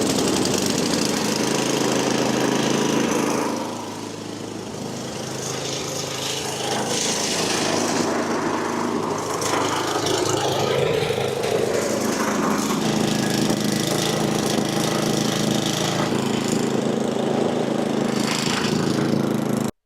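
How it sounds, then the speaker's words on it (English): A power-assisted snowblower with a combustion engine drones steadily and loudly throughout, with a rough scraping, churning texture, a brief dip early on, then a constant running level, and no talk. "Even though the snowblower is power assist and is pulling itself"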